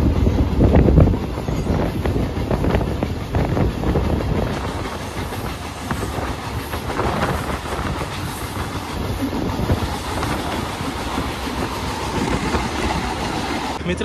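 A train in Mumbai rumbling along with a heavy continuous roar, rhythmic clatter of wheels over track joints and wind buffeting the microphone, loud and close from start to finish.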